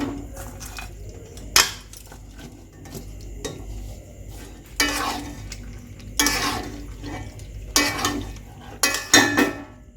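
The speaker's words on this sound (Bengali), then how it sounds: "এখন আমি চিকেনগুলো এর মধ্যে দিয়ে দেবো।" Chicken going into a pot of ready Kashmiri-chilli gravy: clanks of a metal spoon against the pot and scattered clatters as the pieces are stirred in, with a wet, bubbling background.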